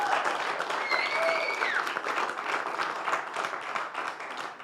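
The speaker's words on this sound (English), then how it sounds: "Let's clap our hands," An investor summit audience applauds entrepreneurs with dense, sustained clapping from a large crowd. A few whistles rise over it early on, and the sound tapers slightly toward the end.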